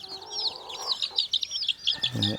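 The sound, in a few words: chickens clucking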